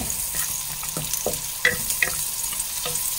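White onion and garlic sauté in a pan for spaghetti, a soft sizzle broken by repeated scrapes and stirring clacks at a steady pace.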